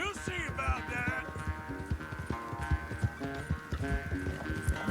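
Horse galloping in Red Dead Redemption 2, a quick rhythmic run of hoofbeats with tack jingling, under music and a voice speaking over it.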